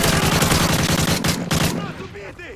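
Rapid bursts of automatic gunfire from the video game Modern Warfare 3 in a survival mode, dense overlapping shots close and loud for nearly two seconds, then tapering into scattered echoing cracks and tails.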